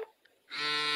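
A phone alert goes off, a bright electronic tone that starts abruptly halfway through after a quiet moment and holds steady and loud to the end.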